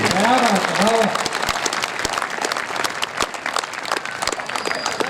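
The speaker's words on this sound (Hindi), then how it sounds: "जिन लोगों ने ताली नहीं बजाई उनसे निवेदन है कि अपनी तालियों का घनत्व बढ़ाना" An audience at a Hindi poetry recital claps in a burst of dense applause that thins into scattered claps, while a voice talks over it at the start.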